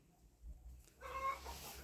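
Turkeys and other poultry call softly in a yard, with faint clucking at first and then a louder burst of gobbling and calling from nearby birds.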